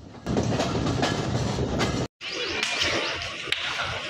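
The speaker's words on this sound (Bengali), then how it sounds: "আন্তনগর তিতুমির এক্সপ্রেস ট্রেনটি বিরামপুর রেলওয়ে স্টেশনে প্রবেশ করলো" The Titumir Express intercity train enters Birampur railway station with a loud, continuous rumble and rhythmic clickety-clack of wheels on rails, cut by one abrupt split-second gap midway.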